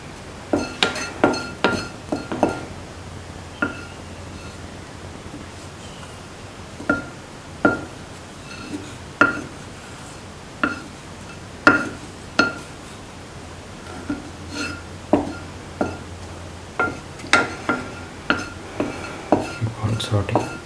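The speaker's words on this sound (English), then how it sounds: "Keep on sauteing." Asafoetida being sautéed in a pan for bitter gourd pickle, heard as repeated metallic clinks and taps of a spoon against the pan in an uneven rhythm over a low background hiss.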